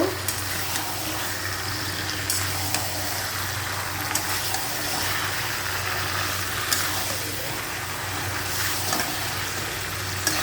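Marinated meat is stirred into hot oil in a pan, giving a steady, loud sizzle with scraping and stirring noises on top, close up and continuous.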